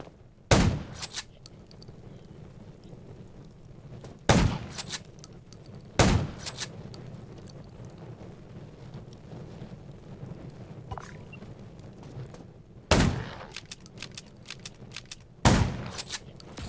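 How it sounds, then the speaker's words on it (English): Sharp video game gunshots ring out one at a time at irregular intervals, five in all, over a steady windy, rumbling background, in Undawn. "Gunshots will attract more zombies."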